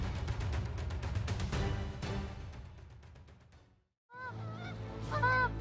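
Canada goose honking: a loud, nasal call rings out after a busy, noisy stretch and a brief pause, with a few rising honks close by near the end.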